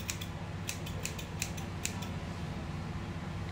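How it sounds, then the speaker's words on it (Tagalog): Scissors handled before a home haircut, giving a series of light metallic clicks and snips in quick irregular succession over a steady low background hum. "meron tayong gunting dito"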